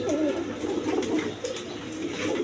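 Several pigeons kept together in a loft, cooing softly and continuously at a low, steady level.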